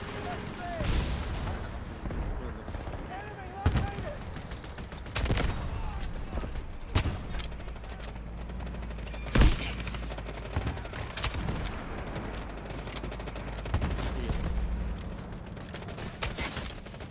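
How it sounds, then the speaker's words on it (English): An artillery barrage in the shooter Delta Force brings repeated booming impacts and gunfire bursts, some heavy and close, spread across the stretch with mechanical clatter and voices talking over it. "Artillery barrage ready."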